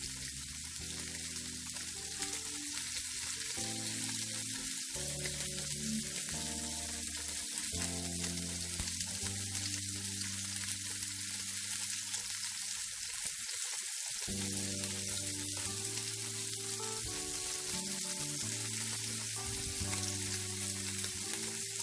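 Shrimp fry in a hot pan for scrambled egg with shrimp, giving a steady, close sizzle that runs unbroken from start to finish. No one speaks.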